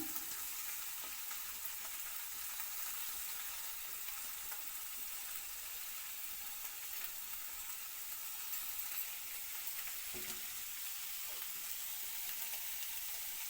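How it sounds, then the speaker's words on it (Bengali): Chopped onion and garlic frying together in a pan make a soft, steady hiss and crackle that holds unchanged throughout, faint and close, with a few small stirring knocks and no talking. "পেঁয়াজ কুচি রসুন কুচি একসঙ্গে ভালো করে ভাজা করা হইব"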